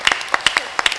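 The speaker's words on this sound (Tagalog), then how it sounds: "bigay natin sa Panginoon ang malakas na palakpak" A congregation at a church healing service claps for the Lord in a brief burst of sharp, irregular handclaps close by.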